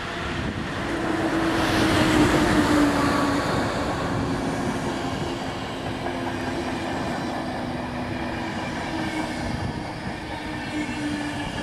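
A suburban commuter train pulls into a station in Pomerania, Poland, its broad rumbling roar swelling and then holding steady with faint wheel squeals, loud and nearby with no one speaking.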